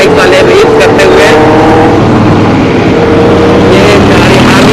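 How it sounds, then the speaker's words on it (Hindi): Superbikes race past on a road at Papad Chauraha during a Sunday group ride from Indore to Dhar. A loud, continuous engine roar mixes with wind rush close to the recording rider, and no voices are clear. "ये हमारे सारे सुपर बाइक वाले रेस करते हुए"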